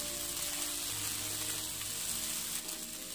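Sabudana khichdi frying on low flame while being turned over in a pan: a soft, steady hiss with faint stirring, close but quiet, no talking.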